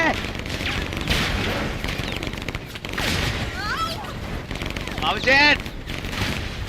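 Video game gunfire crackles in repeated bursts and booming volleys, loud and continuous beneath excited talking by the players.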